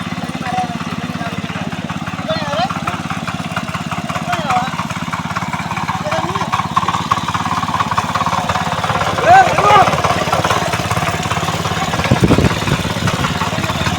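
A tractor engine chugs steadily while ploughing a muddy paddy field, a loud, close, continuous rumble with people talking over it.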